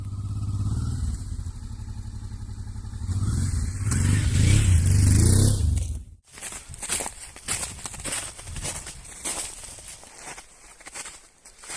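A motorcycle engine drones and revs up loudly, cuts abruptly, then rumbling and clattering follow as the bike rolls over a small ditch on rough ground in winter.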